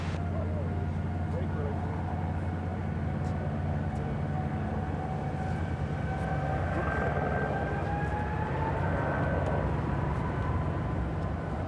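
A Boeing 777 on its first-flight test program idles with engines humming steadily as the brakes release for a taxi, a constant low rumble with a faint rising whine, heard at a distance under continuous background noise.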